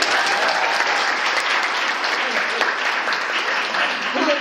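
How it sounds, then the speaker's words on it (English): An audience at a lecture event breaks into loud, sustained applause, dense clapping that holds steady and close throughout with no pause. "go ahead and clap"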